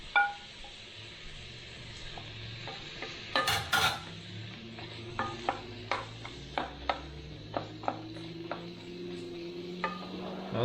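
Green beans are stir-fried for keto shirataki pancit, with a soft sizzle under sharp clinks and scrapes of a utensil against the pan, coming in irregular, fairly quiet strokes and no speech.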